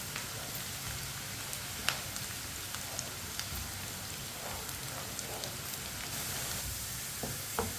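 Onions frying in oil in a pan for aloo baingan, a steady dense sizzle throughout with occasional sharper pops and crackles, fairly quiet and close, with no talking.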